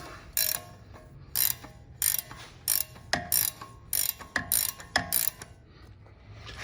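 A long-handle ratcheting wrench turns a 21 mm bolt during a Dana 30 axle teardown. It makes a series of quick, crisp ratchet clicks in short rhythmic bursts, close up and with no talk.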